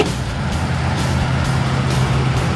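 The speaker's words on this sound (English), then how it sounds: "Okay, go ahead and go wide open throttle." A dragster engine is held at wide open throttle during a test run, giving a loud, dense, continuous roar with a low steady drone, close by and without talk.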